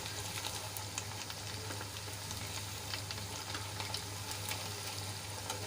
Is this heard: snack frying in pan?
yes